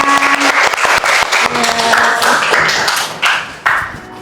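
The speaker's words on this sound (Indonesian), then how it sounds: "Berikan aplaus untuk kita semua." A group applauding indoors at a lecture session, several people clapping in a brisk, uneven patter at close range, with a few louder individual claps.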